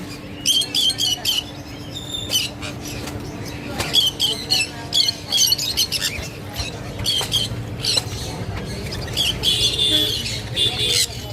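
Shrill sun conure squawks and chirps repeat throughout, loud and close, over a steady hum and busy background chatter at a rainy Sunday bird market.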